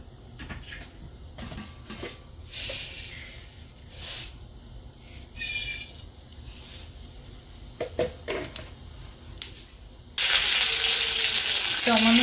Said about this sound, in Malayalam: നമുക്കിതിലേക്ക് കടുക് വറക്കാം.